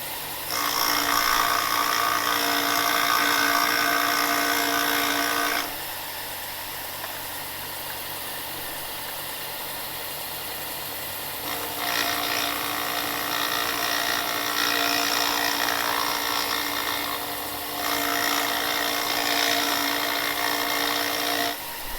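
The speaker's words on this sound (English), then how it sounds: "Just grind that down to where you think, 3 or 4 threads in, maybe 5-6 millimeters." A grinder cuts down bolt threads during an install of a rear differential brace on an Infiniti Q50/Q60. It makes a loud, steady, close grinding roar in three long passes separated by quieter, lower-pitched running.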